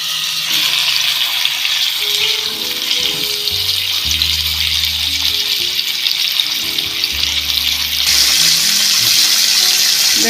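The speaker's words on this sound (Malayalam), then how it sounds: "വെളിച്ചെണ്ണ ഒന്ന് ചൂടായിട്ടുണ്ട് ഇനി ഇതിലേക്ക് മീൻ എടുത്ത്" Tilapia fish frying in hot coconut oil gives a steady, loud hiss close by, joined by low, shifting tonal hums in the background, with the sizzle brightening near the end.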